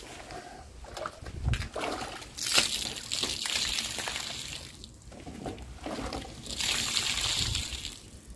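Water sprays steadily over a car during the rinse cycle at a car wash, a continuous hissing rush that swells and eases, with splashing close by.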